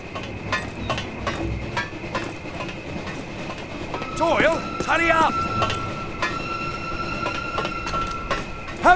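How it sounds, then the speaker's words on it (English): A train rolls past during a nighttime raid in Holland in the World War II shooter Call of Duty United Offensive, a steady rumble with clanking, whistle-like tones and game effects, with voices shouting over it. "Here comes the train!"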